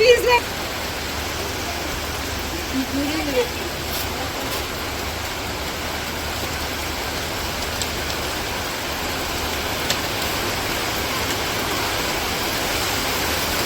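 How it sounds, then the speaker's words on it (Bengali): Steady rain pours down in a village, a dense, even hiss that stays constant and loud throughout, with faint voices and small knocks beneath it. "কইতে না কইতে বৃষ্টি নামে পড়ছে"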